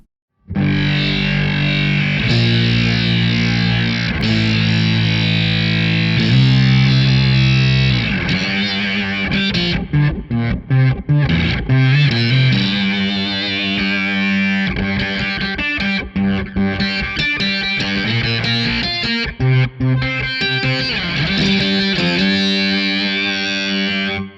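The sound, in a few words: guitar through foldback distortion effect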